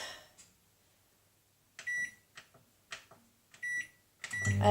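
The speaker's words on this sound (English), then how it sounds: "It's microwave." Kitchen microwave oven running while a pizza is cooked, with a series of sharp electronic beeps in short bursts, door and handling clatter between them, and a rising hum at the end.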